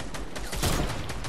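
Gunfire in Fortnite on PS4, a quick fusillade of shots under a steady game background, fairly faint.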